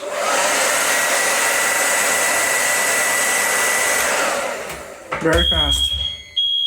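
Mini horns on a fire alarm system sound during a heat detector test in a restroom: a loud, steady harsh buzz holds for about four and a half seconds, then cuts off, followed by a short burst of speech.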